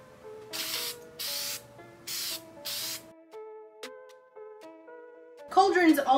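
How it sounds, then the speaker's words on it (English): A plaster cauldron is spray painted with an aerosol can in four short, evenly spaced hissing bursts, followed by a sequence of soft, chime-like musical tones. "cauldron's all sprayed up."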